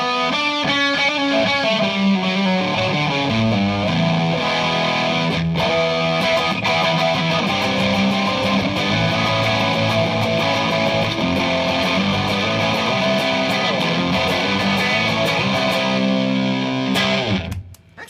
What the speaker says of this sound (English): because it gives kind of an oversaturated, just a fuzzy sound to it.